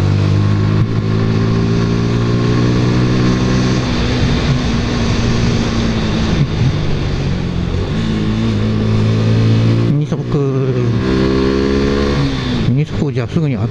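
A Suzuki Gixxer motorcycle engine drones loudly up close while the rider works through the gears on a corner, its pitch rising and falling as revs build and shifts cut in. Someone talks over the engine throughout.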